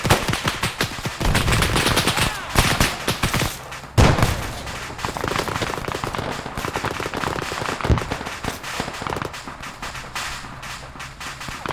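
Arma 3 multiplayer milsim combat: dense rapid gunfire crackles continuously, with a sharp louder grenade blast around the middle and further shots cracking afterward.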